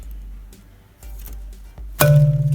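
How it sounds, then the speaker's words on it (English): A single struck wooden marimba bar note, middle C, rings out near the end, preceded by faint clattering and handling noises. "This is what's called a marimba."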